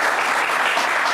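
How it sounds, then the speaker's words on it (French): A studio audience at a televised treasure-chest prize game show bursts into loud, dense applause, a continuous close roar of many hands clapping at once, brief and unbroken. "Oui, ça s'applaudit."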